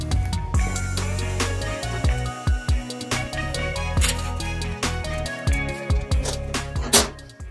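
Steel plates clank and bang onto a steel workshop table, with repeated sharp metallic impacts and ringing resonances, loud and close, in irregular bursts.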